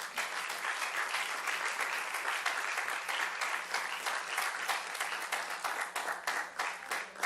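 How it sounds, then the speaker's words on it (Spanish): A church congregation at a Spanish-language service claps for the Lord, a dense and steady round of applause with no talk over it. "Dale otro aplauso al Señor."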